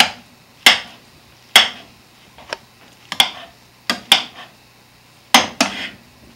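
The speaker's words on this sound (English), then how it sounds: "I just give these a bit of a, a chop up before I start mashing like that" Food being chopped up in a pan before mashing, sharp metallic knocks of a utensil against the pan, about ten distinct close hits in irregular pairs and singles over a quiet background.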